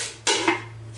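A metal cooking pot is set down on a stove to preheat before baking a chocolate cake without an oven, giving a couple of close, short metallic clanks and knocks over a low steady hum.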